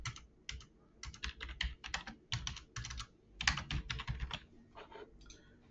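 Someone types a level name on a computer keyboard in quick bursts of close, crisp key clicks, separated by short pauses.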